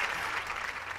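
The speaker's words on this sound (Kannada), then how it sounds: "ಇದರಲ್ಲಿ ಚಪ್ಪಾಳೆ ತಟ್ಟುವಂಥ ವಿಷಯ ಏನಿರಲಿಲ್ಲಪ್ಪ." A studio audience at the Aap Ki Adalat courtroom-style talk show claps briefly, a short, faint burst of steady applause with no speech.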